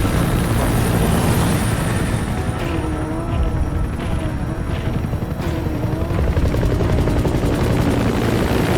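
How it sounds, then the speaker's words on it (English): The support helicopter in Metal Gear Solid V thunders overhead, its rotor beating loud and close throughout as a constant heavy chopping roar. "Support helicopter requested."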